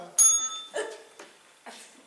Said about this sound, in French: Le bruit de la sonnette.